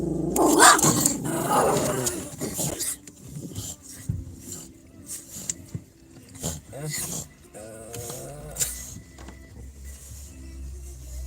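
A dog growls and snarls in bursts amid loud, chaotic movement, with a person's voice shouting over it near the start.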